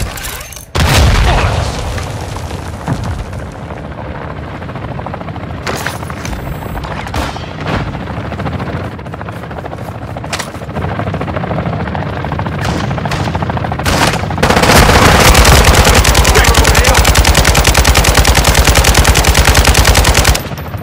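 Dense, loud automatic gunfire from the Modern Warfare 2 DMZ mode on Ashika Island, with sustained machine-gun bursts and booming impacts that grow into a near-continuous barrage toward the end, over a faint helicopter-like drone.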